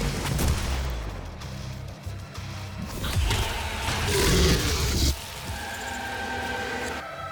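Rocket launcher blasts in Doom, heavy booming explosions with roaring rumble, loud and dense, one big burst around the middle followed by sustained chaotic combat noise.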